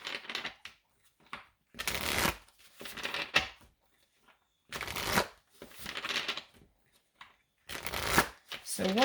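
A deck of tarot cards shuffled in several bursts of crisp, riffling card noise, separated by short quiet gaps, close and fairly loud.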